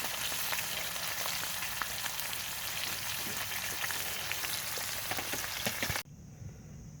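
Steak frying on a camping stove at a primitive campsite, a steady close sizzle and crackle filling the whole stretch before it cuts off abruptly near the end, leaving quiet outdoor background.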